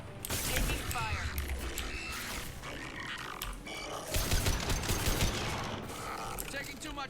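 Gunfire from a firefight in the video game Mass Effect 2, a sustained dense fusillade of shots and mechanical clatter running throughout, with people talking over the battle.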